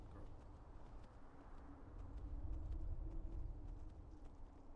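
Horse hooves galloping in the video game Skyrim, a rapid muffled rhythmic drumming that swells in the middle, faint and low in the mix without speech.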